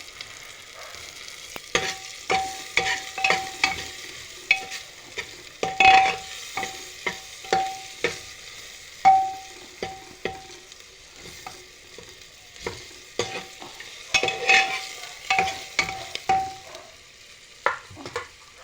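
Turmeric fries in hot oil in a home kitchen, a soft steady sizzle broken by repeated sharp scrapes and clinks of a spoon stirring the pan, close and moderately loud throughout with no talking.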